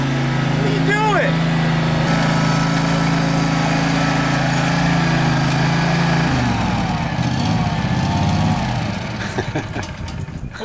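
A lawn mower engine runs steadily with a droning hum that shifts and roughens partway through, while people talk over it.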